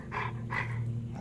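A big dog growls low and steadily at close range, with two brief louder vocal bursts over a continuous rumble and no speech.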